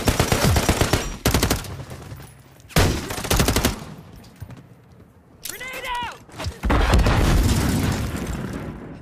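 Grenade blast and rapid gunfire from a Modern Warfare III multiplayer match, with loud bursts of automatic shots, a heavy boom, and a rising whistle-like tone, dense and close throughout with voices mixed in.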